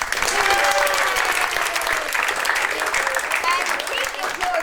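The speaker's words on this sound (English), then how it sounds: "So now, give yourselves a clap for coming out today." Audience applause at an awards show, dense, loud clapping from a full crowd that stays steady throughout, with some voices mixed in beneath it.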